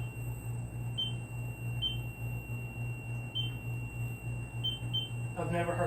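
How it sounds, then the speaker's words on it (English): Faint, high electronic beeps from a recording phone chirp at irregular intervals over a steady low hum, with brief voices near the end, during a ghost hunt at Scream Chamber in Athens, Tennessee. "started making beeping noises"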